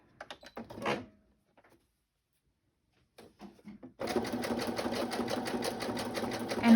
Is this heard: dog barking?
no